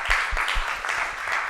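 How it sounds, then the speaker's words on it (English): Audience applause after a conference presentation, a short burst of many hands clapping, steady and fairly loud with a few stronger claps near the start. "Round of applause."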